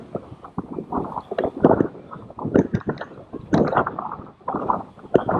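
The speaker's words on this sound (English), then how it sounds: "Oh, it's windy." Gusty wind buffets the microphone in uneven bursts of low rumbling on a walk toward the beach at Bude, with faint voices underneath.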